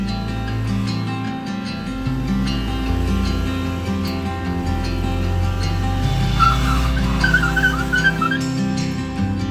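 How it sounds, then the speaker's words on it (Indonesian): Vehicle straining up a steep slope near a campsite below Mount Salak, a loud continuous engine drone with shifting pitch and occasional tire squeal, close by and without talk. "Nah ini kita bisa lihat di sini ada kendaraan yang berusaha naik ya."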